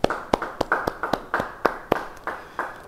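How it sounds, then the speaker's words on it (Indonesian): Congregation at a church Bible study claps in a loose, uneven rhythm, about a dozen distinct sharp claps spread over a few seconds, fairly close and moderately loud with no talking. "Beri tepuk tangan buat Tuhan."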